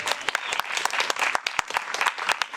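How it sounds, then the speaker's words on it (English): Applause for university graduates at a convocation ceremony, a moderate crowd clapping with individual sharp claps standing out irregularly over a continuous patter. "Let's have a round of applause for all the graduates."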